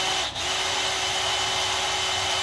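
A power drill runs continuously, boring close to the timing cover of a 1951 Chevy engine, a loud steady whine with broadband grinding noise and a brief dip near the start.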